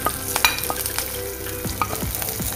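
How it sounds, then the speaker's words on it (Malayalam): Chili powder stirred into a frying masala for an egg and potato dish, with a bright steady sizzle and repeated clinks and scrapes of a ladle against the pan, up close. "മുളകും പൊടി ഇട്ട് ഇളക്കുക"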